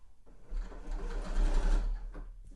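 Home sewing machine running steadily while stitching the curved pocket of a sweatshirt, a close, quiet continuous whir with a fast needle rhythm lasting about two seconds.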